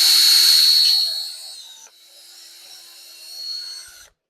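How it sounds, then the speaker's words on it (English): A drill bores pilot holes into wooden model railroad layout benchwork in a brief high-pitched whining burst that drops and then rises again before cutting off, close by with no talking. "we'll drill a couple of pilot holes"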